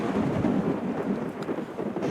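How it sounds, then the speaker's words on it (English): A thunderclap in the video game Rue Valley rumbles as a low, continuous roll, moderately quiet and sustained without sharp attacks, with a faint rain-like hiss beneath it. "the thunderclap"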